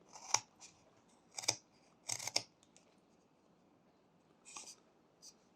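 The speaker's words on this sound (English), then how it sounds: "So somewhere over here we're making a stop cut." A knife cuts into carved wood while making stop cuts on a small whittled horse, giving a few quiet, crisp scraping snips in separate bursts close by, with near-silence between them.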